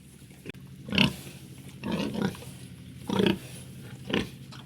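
Pigs on a farm grunt and snort nearby in four distinct bursts spaced about a second apart, fairly loud over a quiet background.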